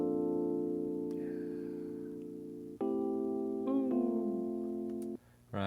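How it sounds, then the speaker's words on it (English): Electronic keys play a song's harmony alone, sustaining one steady chord before shifting to a new chord near the middle and holding it, then cutting off abruptly at the end. "Let's just solo the keys. The keys themselves sound like this."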